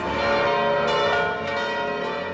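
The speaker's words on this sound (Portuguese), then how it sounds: "Os sinos dobram" Church bells of the Basilica of the Annunciation in Nazareth ring with a loud, sustained metallic clang, overlapping strikes blending into a rich ringing tone.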